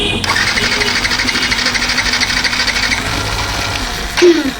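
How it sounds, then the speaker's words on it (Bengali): A Yamaha FZ-S V3 motorcycle, which starts but will not stay running, cranks on its electric starter with a loud, steady whirring drone, then a short thump near the end. "আমি এই যে দেখুন সেলফ দিচ্ছি"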